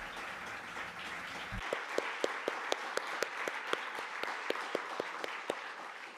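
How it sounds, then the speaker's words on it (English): A roomful of people at a peace-building social forum in San Sebastián applauds a peace artisan, steady dense clapping with a few louder individual claps punching through at a regular beat near the microphone. "that's why I ask you to please give him a round of applause"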